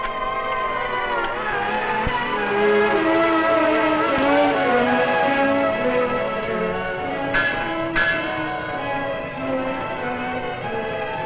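A tugboat captain sounds the vessel's bells and whistle signals, a steady sustained tonal drone with shifting pitches and a couple of brief higher accents, loud and continuous throughout.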